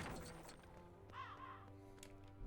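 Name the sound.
crow cawing in the Lego The Hobbit video game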